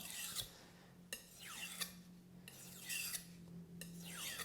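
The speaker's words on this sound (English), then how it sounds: "we're going to continue to polish the knife. So we're going to switch to the 6000." A knife blade is drawn across a 6000 grit whetstone in repeated polishing strokes, each a soft rasping swipe, about six passes at an uneven rhythm, close and fairly quiet.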